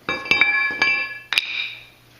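Metal parts clinking as the brake caliper bracket comes off the front of a BMW E46 330xi, with several sharp close taps followed by a longer ringing metallic scrape that fades out.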